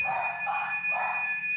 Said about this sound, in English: That was the workshop alarm going off, Major Mo.